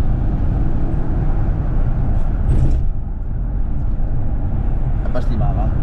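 A Mercedes CLA with a Stage 1 tune roars loudly and continuously from inside the cabin, a dense engine and road rumble that barely dips, with voices briefly present over it.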